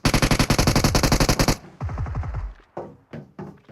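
Rapid automatic gunfire rattles loudly in a 4v4 video game shooter battle, a dense sustained burst followed by a short slower string of shots and a few isolated cracks.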